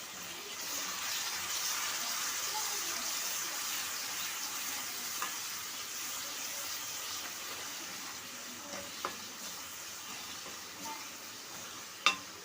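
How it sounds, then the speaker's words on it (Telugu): A spoon stirs yogurt into sizzling spices in a pan for prawn pulao: a steady, even frying hiss throughout, with a few faint clinks near the end and no talking. "పెరుగు మొత్తం బాగా మసాలాలు కలిసిపోయే వరకు కలుపుకోవాలి"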